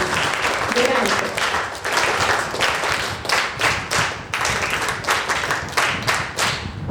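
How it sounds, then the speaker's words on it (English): A seminar audience claps for a speaker, with loud, close, uneven clapping from a modest group and scattered voices running underneath throughout. "Clap for her."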